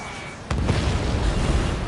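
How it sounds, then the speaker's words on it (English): A missile strike downs an aircraft in Ace Combat 7, a sudden loud boom that bursts in midway and rolls on as a sustained roaring rumble. "Missile away."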